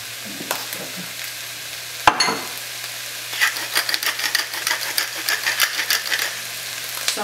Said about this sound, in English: So I'm gonna just saute, you know, till the onions get a little soft.